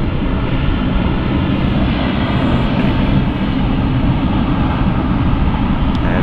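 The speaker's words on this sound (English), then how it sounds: "So I'm just waiting for the departure of the KLM aircraft." A KLM airliner departs London City Airport, its engines giving a loud, steady roar that holds evenly throughout with no voices over it.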